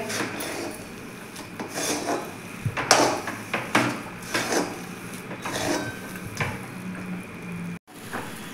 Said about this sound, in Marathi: आता आपण हे व्यवस्थित असं मिक्स करून घेऊयात.